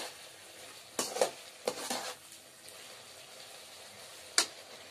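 Cauliflower frying in a pan as a spoon stirs it, a low steady sizzle broken by a few sharp scrapes and clinks of the utensil against the metal, with no voices.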